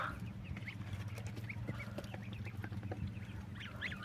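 Geese splashing and bathing in a freshly dug backyard pool give brief honks and soft calls over a steady low rumble, moderately close and continuous.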